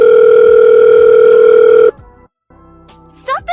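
A telephone call tone sounds as a loud, steady electronic note for about two seconds, then cuts off abruptly into near silence before a brief voice breaks in.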